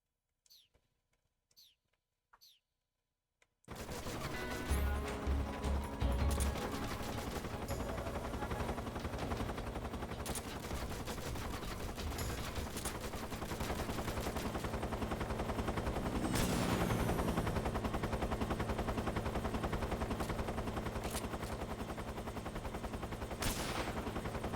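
After a few faint clicks, a dense, continuous roar of shotgun and rifle gunfire from the video game Metal Gear Solid 3 plays loudly, with steady sustained firing and a few sharper blasts.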